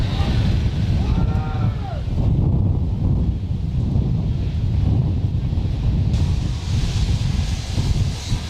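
Strong wind roars and buffets the microphone throughout during a California wildfire firestorm, a loud continuous rumble with gusty surges, and a brief voice can be heard partway through.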